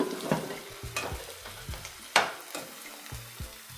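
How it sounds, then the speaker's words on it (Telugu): Drumstick pieces fry in a pan for a mutton drumstick curry, with a soft, continuous sizzle under repeated close scraping and clattering stirs of a spoon against the pan. No one speaks. "కట్ చేసి క్లీన్ చేసి పెట్టుకున్న ములక్కాడ ముక్కలు వేసుకోవాలి. వీటిని బాగా వేగనివ్వాలి."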